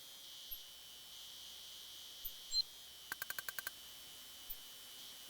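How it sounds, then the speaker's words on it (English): Chirping insect ambience in the retro adventure game The Colonel's Bequest, a steady thin high drone with a quick burst of six rhythmic clicks in the middle and scattered soft blips, quiet and without voices. "We have sounds. We have cicadas or something."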